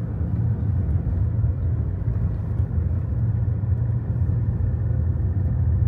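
A vehicle climbs the rough road up Khardung La pass from Leh in second gear, its engine drone a steady, close low rumble with road noise, at 8 degrees outside, with no voices.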